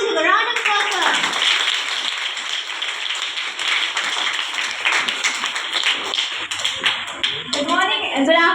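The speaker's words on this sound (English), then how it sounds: "Please give a round of applause for her." A school audience claps through a sustained round of applause for a class 8 student about to give a talk at a high school assembly, steady and fairly loud, with a voice briefly heard near the start and end.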